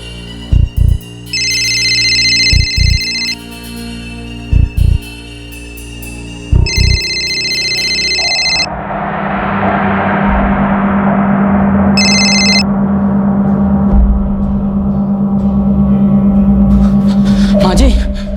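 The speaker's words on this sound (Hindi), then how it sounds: "रिंग तो ऊपर ही बज रही है" A telephone rings in repeated electronic bursts with pauses between, then a steady low hum takes over as the ringing returns once more.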